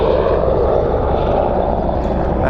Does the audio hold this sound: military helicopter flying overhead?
yes